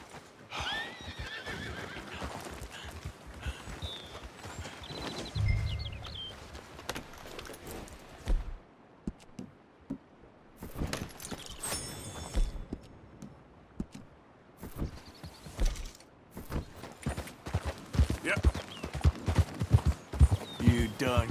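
A horse in the video game Red Dead Redemption 2 clip-clops on hooves and whinnies loudly, with irregular hoofbeats, snorts and gear jangling near and clear, while someone speaks between the sounds.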